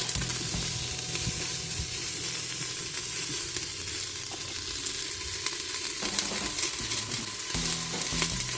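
Onion and garlic sauté in a hot pan for a pork pochero, a steady close sizzle and crackle with occasional stirring scrapes and no talk.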